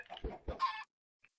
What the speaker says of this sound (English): So I threw an egg and it popped out another chicken